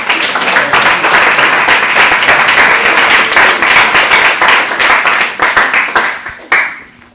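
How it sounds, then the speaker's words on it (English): Audience applause for graduates at a graduation ceremony: dense, steady clapping from a crowd fills the room for several seconds, then tapers off and fades near the end. "Let's give a round of applause for the graduates"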